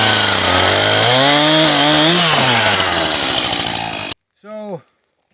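A chainsaw cuts birch firewood with a loud, close engine whine whose pitch dips and climbs under load, then stops abruptly, followed by a brief voice.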